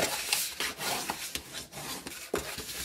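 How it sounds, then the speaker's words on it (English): Scored lines on foiled craft cardstock being folded and burnished for a treat box: repeated close rubbing and scraping strokes of a tool across the paper in an uneven rhythm, with no talk. "fold and burnish your score lines"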